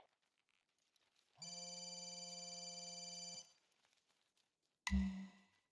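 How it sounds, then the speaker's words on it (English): A telephone rings inside theHunter: Call of the Wild, a steady electronic trill holding for about two seconds before cutting off, followed by a brief louder thump near the end. "Is that the phone I'm calling?"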